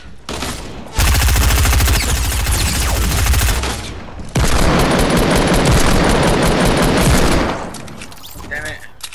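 Rapid gunfire in the Fortnite video game, two long loud sustained bursts of dense shots close up, with voices talking in the gaps and afterward.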